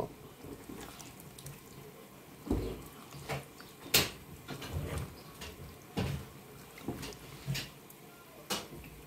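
Water pours and splashes into a pot of solyanka in uneven bursts, with intermittent clinks and knocks of cookware, fairly close and moderately quiet.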